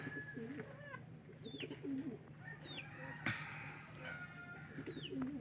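Racing pigeons cooing softly at a training release, repeated low throaty coos with light chirps over steady background hum, fairly faint and distant.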